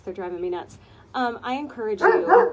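Several dogs bark and yip repeatedly nearby in quick bursts, the barks overlapping a person talking indoors.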